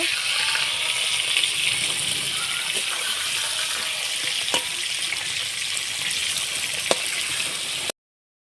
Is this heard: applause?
no